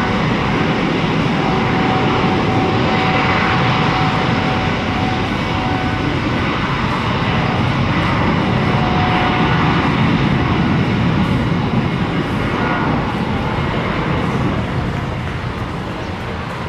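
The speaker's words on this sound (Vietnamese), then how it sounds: "chiếc máy bay Boeing 777 chở hàng của Korean Cargo được lệnh cất cánh rời khỏi sân bay Tân Sơn Nhất" A Korean Cargo Boeing 777 freighter takes off from Tan Son Nhat airport on a rainy morning, its jet engines a loud, continuous roar held close for the whole stretch with no voices.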